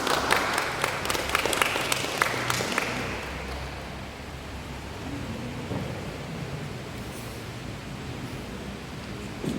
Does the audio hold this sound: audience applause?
yes